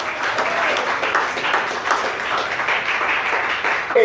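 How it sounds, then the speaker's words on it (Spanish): Congregation at an evangelical church service in Nicaragua claps loudly and steadily for about four seconds, a dense sustained wash of applause with no pause. "Fuerte las palmas para Cristo"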